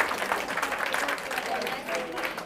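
Audience at a keynote talk clapping and cheering, a steady dense wash of applause with voices mixed in, close and continuous throughout.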